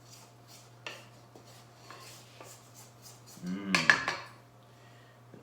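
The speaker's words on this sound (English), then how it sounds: "I'm going to scrape the bowl one more time" A mixing bowl of gingerbread dough is scraped: light scattered clicks and taps, then a close, louder rasping scrape of utensil against bowl near the end, over a low steady hum.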